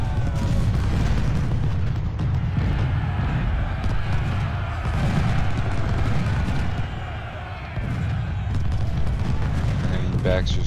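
Cannon and artillery fire booms repeatedly amid dense battle noise in the Civil War strategy game Ultimate General: Civil War, at the Battle of Stones River, a near-continuous barrage under a voice.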